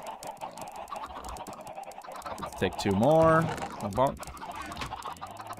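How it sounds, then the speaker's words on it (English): Minecraft chickens clucking in a game, a run of short harmonic clucks and squawks bunched around the middle, fairly close and moderately loud, with someone talking over parts of it. "I'm telling you, these chickens are just having a field day."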